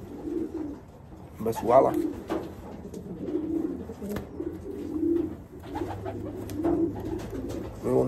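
Racing pigeons coo in soft, repeated low phrases, close by, with a few wing flaps and scattered chirps, while someone talks over them now and then.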